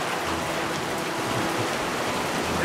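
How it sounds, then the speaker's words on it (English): Hail falling during a Midwest storm while sheltering at a gas station, a dense, steady, loud roar of pelting ice on surfaces that never lets up, with no talking. "We take shelter from the hail in a gas station."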